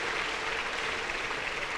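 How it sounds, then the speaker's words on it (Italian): Faint, distant audience applause at a business association's general assembly in Treviso, heard as an even, continuous wash of clapping with no distinct individual claps. "parte l'applauso liberatorio"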